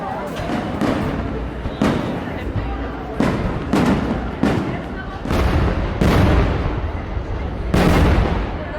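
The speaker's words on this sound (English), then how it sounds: "These fireworks have been going for a while now, and they're still going." Fireworks bursting again and again at irregular intervals at La Ronde amusement park, booming thuds and crackles over a murmuring crowd.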